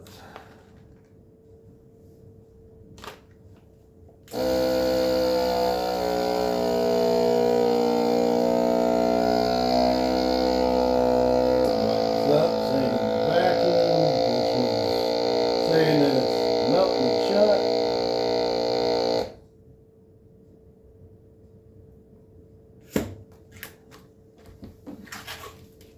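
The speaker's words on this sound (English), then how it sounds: "Vacuum seal." A Seal-a-Meal vacuum sealer working on a bag of rice gives a steady, loud mechanical hum with a tonal whine that runs for about fifteen seconds, its pitch shifting partway through, then stops abruptly into near silence.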